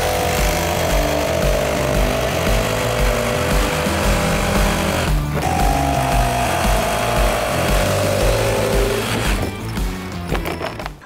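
Power tool cutting a Tesla Solar Roof tile in half, a glass-covered photovoltaic roofing tile; a loud, steady grinding whine runs continuously for about ten seconds with a brief dip midway, then trails off near the end.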